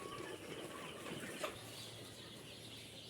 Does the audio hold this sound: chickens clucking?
yes